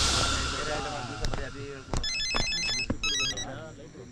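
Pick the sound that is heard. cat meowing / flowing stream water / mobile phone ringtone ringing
mobile phone ringtone ringing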